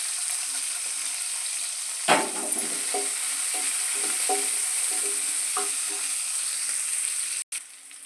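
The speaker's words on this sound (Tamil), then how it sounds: "வதங்கட்டும்." Small onions and garlic sauté in a pan with a soft, steady sizzle, broken by a sharp scrape and several light stirring knocks.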